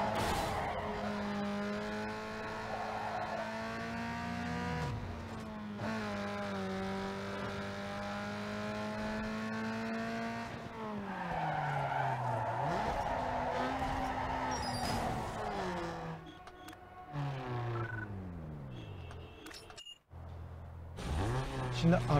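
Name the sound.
car racing and skidding on highway in Need for Speed Underground 2 video game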